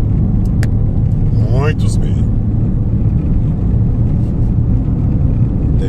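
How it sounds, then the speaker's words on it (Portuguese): Cars pass on the PI-143 road as a loud, constant rumbling roar, with one vehicle sweeping by close around the middle, while someone speaks briefly over the traffic. "para captar bem direitinho aí os carros"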